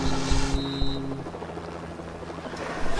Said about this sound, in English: let's just go in the helicopter then